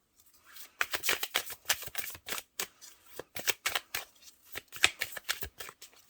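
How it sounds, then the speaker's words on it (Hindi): Tarot cards are drawn from a deck, producing a run of close, crisp papery flicks and slides in quick irregular bursts, separated by brief quiet gaps. "लास्ट कार्ड निकाल रही हूँ मैं"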